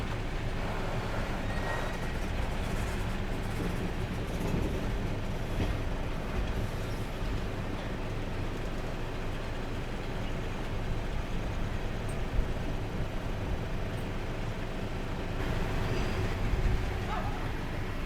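An AC Garib Rath Express train from Kochuveli pulls into Yesvantpur Junction, heard as a constant rolling rumble and rattle from inside the coach, with faint sounds of people in the background.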